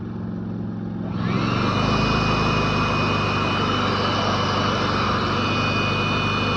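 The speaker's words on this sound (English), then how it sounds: "I don't know if you can hear the engine get louder." A steady engine drone from a Predator 3500 inverter generator that swells louder after the first second and then holds a constant hum with a faint high whine, no voices.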